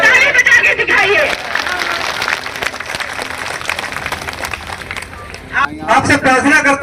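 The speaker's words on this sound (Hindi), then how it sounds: "दोनों हाथ उठाइए, ताली बजा के दिखाइए।" A crowd at a riverbank embankment protest sit-in in Farrukhabad claps together in a dense, steady patter for several seconds, with a loud amplified voice speaking before and after the applause.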